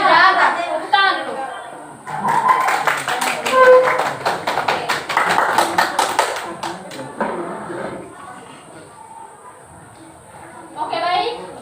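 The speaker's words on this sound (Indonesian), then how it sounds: "Tepuk tangan dulu" Children in a classroom clap their hands in a dense, lively burst lasting several seconds, with a voice before it and chatter trailing off afterward.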